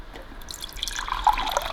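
Water runs from the spout of a Zero Water filter tank into a container, starting as soft trickling drips and building into a brighter, splashing pour, close and alone.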